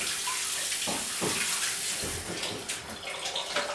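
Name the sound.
washing hands under running tap water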